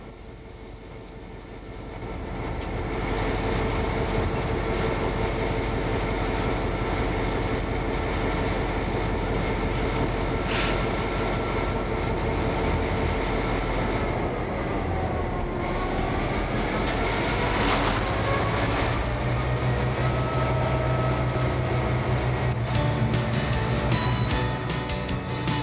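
Inside the cab of a Metra EMD F7 diesel locomotive on the Illinois Railway Museum main line, the engine drones steadily as the train rolls, with wheels clacking over rail joints and occasional metallic squeals; no one speaks.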